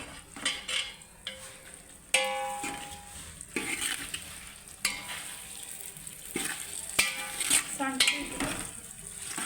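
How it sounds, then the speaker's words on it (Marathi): Vegetables being stirred and sautéed in tempering oil in a pan while cooking prasad, with intermittent scraping and clinking of a utensil against the pan over a soft sizzle, close up, with brief voice in between. "हे चांगलं असं परतवून घ्यायचं"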